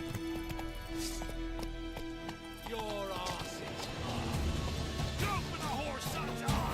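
Hoofbeats of Roach, the horse in The Witcher 3, clatter in a steady galloping rhythm through a game soundscape with ambient music and effects, while someone talks over it.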